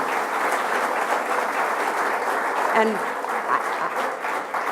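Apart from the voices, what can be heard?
audience applause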